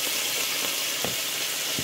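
Steak pan-frying in butter: a steady, loud, dense sizzle and hiss fills the whole moment, with faint occasional spatters and no talking.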